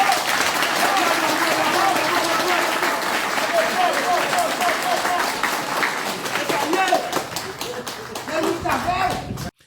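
A crowd applauds at a political speech in Haiti, dense continuous clapping that fills the whole stretch, loud and close, with voices mixed into the noise.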